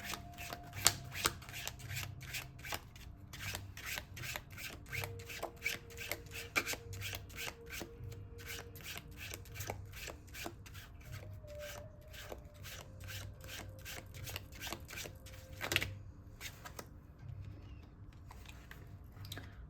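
A deck of tarot cards is shuffled by hand up close, producing a continuous run of rapid, crisp riffling flicks with soft rubbing between them and brief pauses, and no one talking.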